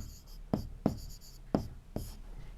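Four crisp, separate strokes of writing on a board in a Sanskrit grammar class, each a sharp tap-and-scrape spaced under a second apart, close and clear over a quiet room.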